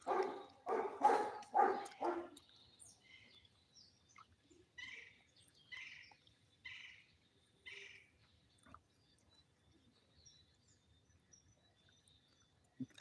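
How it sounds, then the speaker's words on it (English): Various birds chirp in an outdoor setting, a few short faint calls spread out after some louder bursts at the start, distant and sparse. "You hear different variety of birds them"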